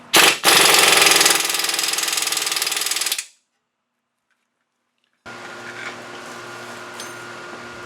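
An impact wrench tightens a nut on an Audi Q5 lower control arm, with a loud, fast rattling burst of about three seconds, then silence, then faint workshop hum.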